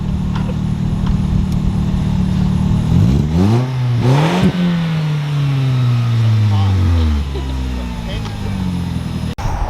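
A 2002 Subaru WRX engine revs up and down several times, the pitch sweeping up and falling back loudly and close by, while people talk over it.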